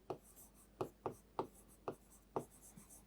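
Pen or marker strokes on a board during a Hindi history lecture, six or seven short scratchy bursts in an uneven rhythm, close and fairly quiet, with no talking over them.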